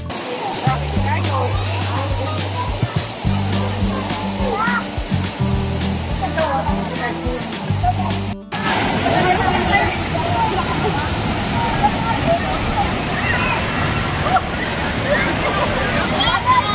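Bulawan Falls waterfall in Casiguran, Aurora, a pool of cold water: the falls roar as a steady, close rush, with voices and other sounds over it early on, then the water continues loudly on its own.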